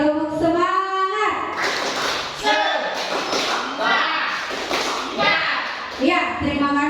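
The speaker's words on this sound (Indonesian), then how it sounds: "Oke, tepuk semangat." A classroom group performs the rhythmic tepuk semangat spirit clap, quick patterned claps and thumps in bursts between children's and adults' voices, fairly close and lively.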